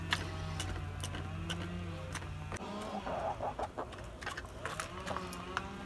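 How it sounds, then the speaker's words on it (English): Chickens at a squirrel-proof feeder clucking and murmuring nearby, soft repeated clucks over a steady low hum, with pecking clicks scattered through. "Look at this cute little chicken."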